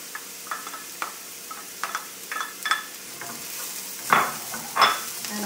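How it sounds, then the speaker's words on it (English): Garlic frying in a pan: a soft, steady sizzle under a series of light clicks and scrapes of a utensil stirring, close and quiet, without talk. "when I see that the garlic is just starting to brown"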